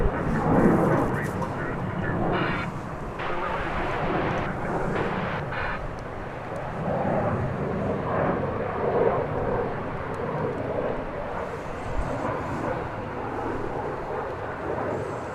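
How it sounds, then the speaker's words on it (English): An American Airlines Airbus A321 jet passes at DFW Airport in the evening, a broad steady roar rising and falling over about fifteen seconds, with people talking nearby. "It's an Airbus A321."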